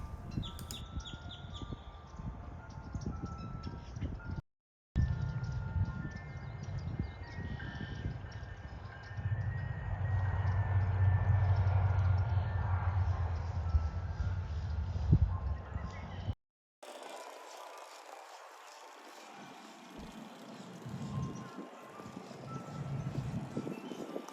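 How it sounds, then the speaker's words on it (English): A faint, tinkling ice cream truck jingle plays far in the distance over quiet outdoor lakefront park ambience in Kissimmee, with brief gaps of near silence. "that music you hear in the background is from a very loud ice cream truck"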